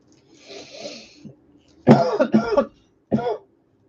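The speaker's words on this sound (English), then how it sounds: "I just shook the fucking building while I coughed." A faint voice murmurs, then three harsh, loud coughs burst out close by in quick succession, the last after a short pause.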